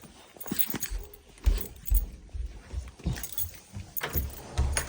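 Keys jangle and clink in repeated bursts, close and fairly loud, with irregular metallic rattles and thumps as they are handled beside a 2017 Honda Fit.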